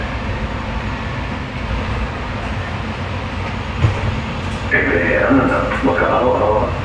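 Steady rumbling drone of a light rail train in motion in Hawaii, heard from inside a car, continuous low roar with a rising whine toward the end.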